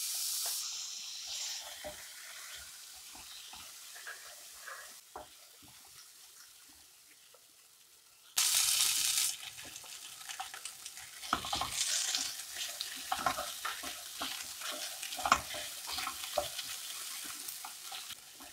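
Tomatoes frying with fennel seeds in a pan, a quiet steady sizzle that jumps louder partway through, with scattered stirring scrapes and crackles over the continuing hiss, close and alone.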